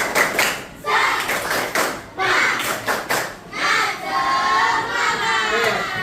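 Children in an Indonesian class do a 'tepuk semangat' spirit clap, with bursts of group clapping and thumping in a chanted rhythm. Young voices chant along between and over the claps.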